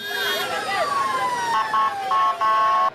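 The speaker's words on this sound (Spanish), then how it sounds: "al menos 3 ambulancias salieron desde la cárcel luego de la intervención" Ambulance sirens wail as the vehicles leave the prison in Machala, Ecuador, a loud, close siren that sweeps downward and then pulses in steady alternating tones before cutting off.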